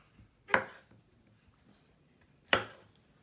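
Mushrooms sliced with a knife on a cutting board, two sharp isolated chops about two seconds apart against a quiet background.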